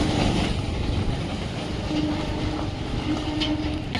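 A train running on the rail line beside a main road as it approaches a station, a loud continuous rumble with clattering wheels and faint squeals, heard up close throughout with no talk.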